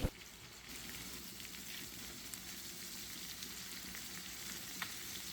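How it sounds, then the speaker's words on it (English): Fish pieces fry in a pan of hot oil, giving a steady, dense sizzle that holds at an even level throughout, close by, with faint crackles and no voices. "Cook the fish pieces for 3 to 4 minutes per side until golden brown and slightly crispy"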